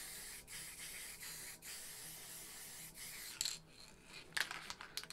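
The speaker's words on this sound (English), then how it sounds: "you want to just press your cap down lightly to produce like some mist" A white spray paint can gives a soft, close, continuous hiss as its cap is pressed lightly to lay down a fine mist for a mountain scene. The hiss breaks off briefly a few times, and short rattling bursts come near the end.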